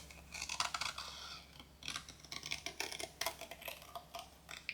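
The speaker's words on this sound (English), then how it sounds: "Now I'm going to actually switch to bigger scissors." Paper is fussy-cut with large scissors in a quick series of close, crisp snips and rustles, in irregular bursts with short pauses between them.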